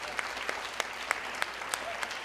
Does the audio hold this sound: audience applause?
yes